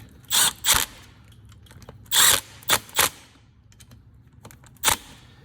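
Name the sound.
impact wrench tightening dirt bike oil drain bolts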